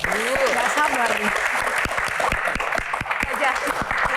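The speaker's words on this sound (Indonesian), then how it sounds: "tepuk tangan dong" Audience applause at a Q&A event for the film Melambung Jauh, dense steady clapping from a crowd with a voice speaking over the start and sharp individual claps standing out.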